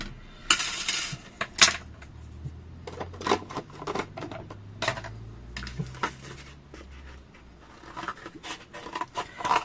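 A knife cutting through food on a board, with irregular taps, clicks and scraping strokes spread across the clip, some sharper knocks standing out and a low hum underneath.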